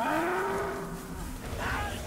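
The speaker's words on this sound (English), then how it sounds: "Nope, it's a special elk." A special elk in the video game Far Cry Primal gives a drawn-out, moaning call that slides slightly downward over a low background rumble, with a second fainter bellow near the end.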